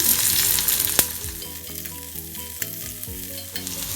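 Chopped garlic and onion fry in hot oil with a dense, continuous sizzle, punctuated by a sharp utensil clink and occasional stirring scrapes, close and clear.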